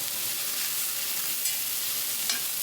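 Onions sweat in a pan with a steady, even sizzle throughout, and a couple of faint stirring clicks stand out. No one speaks.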